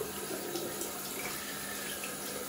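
Tap water runs steadily and close by while a shaving soap tub is rinsed under warm to hot water at a sink, a continuous broadband splashing rush with no talk.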